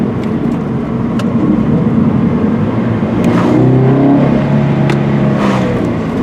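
A Subaru BRZ sports car drives along a scenic road, its engine a steady loud hum with road and wind roar that swells slightly in the middle and holds through to the end.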